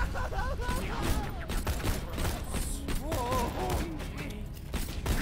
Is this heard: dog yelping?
no